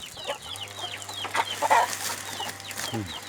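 Chickens cluck and squawk close by while being fed, with repeated short bursts of clucking over a low, steady hum.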